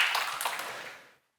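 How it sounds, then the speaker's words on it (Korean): A church congregation applauds together, a brief burst of dense hand clapping that fades out after about a second. "우리 그분들에게 격려의 박수 함께 보내면 좋겠습니다"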